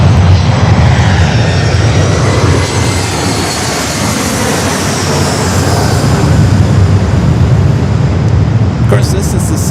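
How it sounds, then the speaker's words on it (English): A plane roars overhead at Los Angeles LAX airport, its loud broadband engine noise holding steady for the whole stretch without a break. "Get a great shot of the planes flying over your head right there as well."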